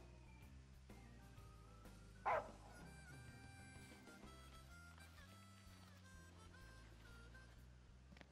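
In Final Fantasy XV, a dog gives a single short bark partway through, standing out over a steady bed of game music and ambient sound.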